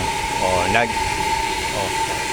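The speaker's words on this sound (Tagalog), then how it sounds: "Water pressure tank namin nag-iingay." Household water pressure tank pump giving off a steady mechanical hum with a constant tonal whine, close and moderate, while a person talks over it.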